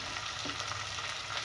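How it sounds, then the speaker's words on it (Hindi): Ginger garlic paste and spices frying in oil for arvi gosht, a steady, dense sizzle that stays level and close throughout with no voices. "इसे भी मैं बहुत अच्छी तरह भून लूँगी"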